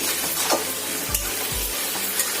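Potatoes and spine gourd frying in spices, with a constant close sizzle and a few dull scraping stir strokes, and no one speaking.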